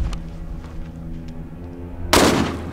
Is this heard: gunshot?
yes